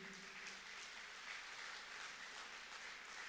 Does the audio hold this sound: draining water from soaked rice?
no